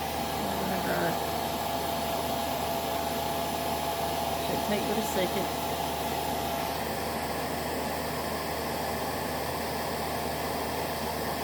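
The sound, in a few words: hair dryer drying acrylic paint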